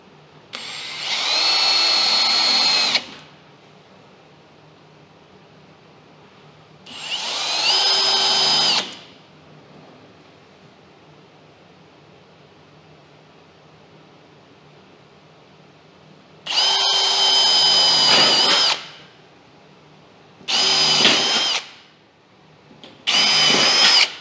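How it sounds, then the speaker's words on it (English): A power drill bores small guide holes through a template on a Bullseye grill for a side shelf hinge, in five separate high whining bursts of a few seconds each, close and loud with quiet gaps between. "So drill those three holes."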